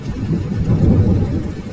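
Heavy rain with a low rumble of thunder during a storm in a story, a dense, continuous wash of rainfall under a deep rolling boom, loud and close, with no voices.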